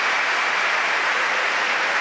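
A crowd applauds at a world table tennis championship men's singles match, a steady dense clapping that fills the whole stretch at full loudness with no talk over it.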